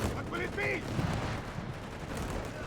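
Quad mount machine gun fire in Company of Heroes 3, a World War II strategy game battle, rattles on as a dense, continuous stream of battlefield shots with someone talking over it.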